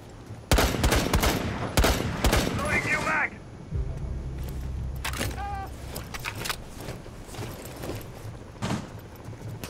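Gunfire in Rainbow Six Siege on the Presidential Plane map comes as rapid, loud bursts of automatic shots with mechanical clicks, then sporadic single shots over a low engine drone. Players talk throughout.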